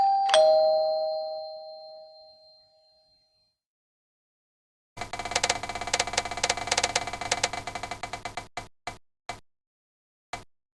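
A prize wheel spins during a manicure roulette game, a bright bell-like tone ringing out before a rapid run of clicking ticks that slows and spaces out into a few final clicks as the wheel stops.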